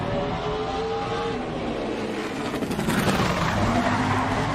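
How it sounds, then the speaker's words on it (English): A NASCAR Cup Series race car engine revs hard under a harsh, sustained roar, with skidding tire noise as the rear tires hop on and off the racetrack, loud and close without talk. "You heard the engine revving, and you heard the rear tires hopping on and off the racetrack."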